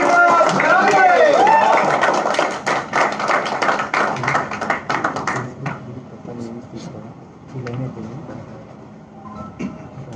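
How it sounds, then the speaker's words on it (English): A crowd at a Hyderabad meeting claps briefly near the start, a dense wash of applause that soon fades as a voice takes over and speech continues alone. "Please, with very big round of applause for"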